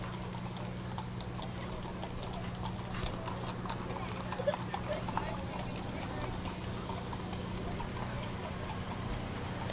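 Decorated horses and ponies decked in ribbons and stars walk in a Memorial Day parade in Ironton, Lawrence County, their steady hoof clip-clop audible over a constant low hum and distant crowd talk.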